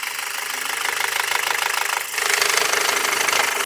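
A Volkswagen third-generation EA888 engine with an oil-pressure fault idles with a fast, steady metallic knocking and ticking close by, growing a little louder partway through before stopping abruptly.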